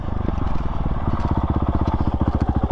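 Honda CRF450RL 450 dirt bike engine chugging steadily in first gear at low speed, a loud close rapid thumping beat that stays even and smooth throughout.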